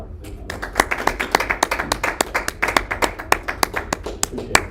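A small audience claps for a guest after a question-and-answer session at an Iowa food and wine event. The applause is close and fairly sparse, with individual claps standing out in a quick, uneven patter, and no talk over it.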